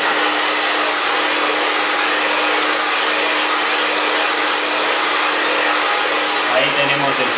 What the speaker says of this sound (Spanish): Ahí tenemos el famoso secador.